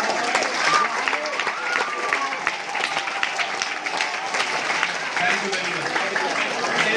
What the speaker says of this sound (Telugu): వాళ్ళు కూడా ఒకసారి చప్పట్లు పెడతారు.